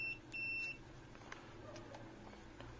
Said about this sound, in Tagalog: i-check natin kung nakatawid na yung ating buzzer o yung ating continuity, no? Yan, buzzer mode tayo dyan.